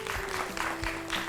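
A studio audience breaks into brief applause after a correct quiz answer on a light educational show, a dense spread of clapping with a sustained tone ringing underneath throughout.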